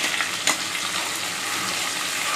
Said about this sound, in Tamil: இந்த வெங்காயம் நல்லா வதங்கணும்